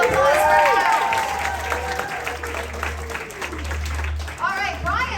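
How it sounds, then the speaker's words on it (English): Applause for a cosplayer at a horror-themed summer convention: crowd clapping and cheering under loud amplified talk and whoops, with a low hum running beneath. "Round of applause for Ash."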